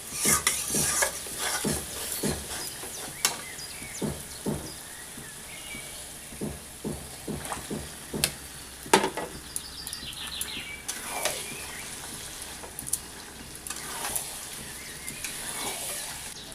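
Spice masala frying in oil with chicken liver and gizzard, stirred with repeated scraping clicks and taps over a constant sizzle, with faint bird chirps in the background.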